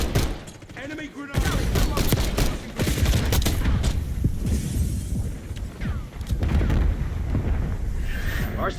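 An enemy grenade blast in a Black Ops 6 hardpoint match lands amid sustained gunfire, one heavy boom followed by loud, crackling bursts of shots and debris, with brief in-game callouts mixed in.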